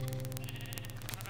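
Sheep bleat in the video game Minecraft, a short burst of repeated blocky game-sound bleats heard up close with no talk over them.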